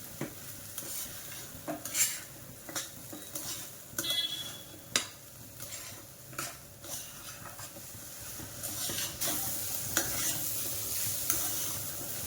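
Barnyard millet (varai), washed and then roasted in ghee in a pan, stirred with a spoon that scrapes and clinks against the metal at irregular intervals over a soft, steady sizzle, close up, with no voices.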